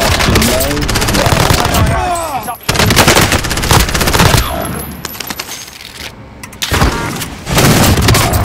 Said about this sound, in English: I got sniped from the other building